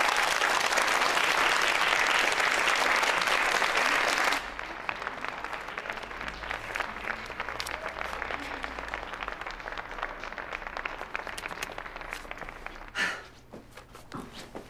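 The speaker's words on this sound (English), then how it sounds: "Round of applause for Dynasty Barry." Audience applause for a performer at a school event, loud and dense for about four seconds, then thinning into scattered claps and shuffling with low murmurs before a brief final burst.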